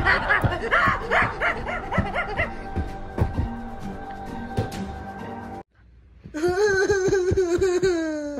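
Cartoon dog barking in short repeated yaps amid a busy, noisy scene with laughter and chuckling, then a brief drop to near silence followed by a louder, higher-pitched wavering vocal burst.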